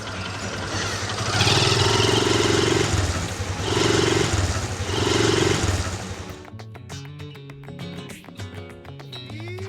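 Motorcycle engine on a ride out to a smallholding coffee farm, a steady mid-pitched drone swelling in three surges as it revs, then settling to a lower rumble with mechanical clatter near the end.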